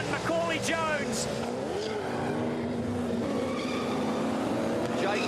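Touring car race tyres squealing and skidding under a brake lock-up, with engines wailing and shifting pitch as cars pass, while a commentator talks over the racing sounds.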